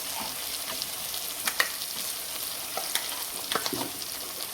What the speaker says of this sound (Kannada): ಮಸಾಲ ತುಂಬ ಒಳ್ಳೆ ಫ್ರೈ ಆಗಬೇಕು. ಆ ಗೀ ಜೊತೆ ಮಿಕ್ಸ್ ಆಗಿ ಚೆನ್ನಾಗಿ ಫ್ರೈ ಆಗಬೇಕು.